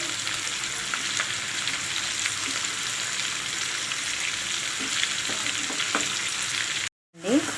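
A spoon stirs egg masala with salt in a sizzling pan, giving a steady frying hiss with faint scraping taps throughout and a short break near the end.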